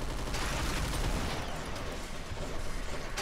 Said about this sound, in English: How do you like my sentry gun?